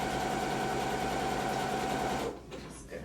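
A sewing machine running a straight stitch in a steady, fast mechanical whir up close, stopping abruptly near the end and leaving quieter background sound.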